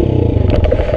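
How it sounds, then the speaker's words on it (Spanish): A motorcycle engine pulling away gently in first gear, close and loud, with a steady rumbling idle that picks up slightly. No one speaks. "Y ahora sí, escuchen el motor."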